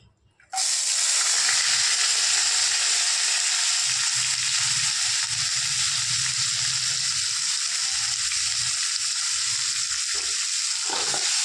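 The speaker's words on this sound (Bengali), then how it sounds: "পেঁয়াজটা আমি লাল লাল করে ভাজবো" Chopped onion dropped into hot oil with bay leaf and dried red chili, bursting into a loud, close, steady sizzle after a brief quiet start and frying on evenly.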